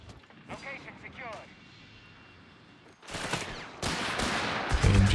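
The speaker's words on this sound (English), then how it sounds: "There's the MG42. That gets the first burst." Burst of MG42 machine-gun fire in the World War II strategy game Company of Heroes 3, loud dense crackling shots arriving in the latter half after a quieter stretch of battle ambience, with commentary voice running underneath.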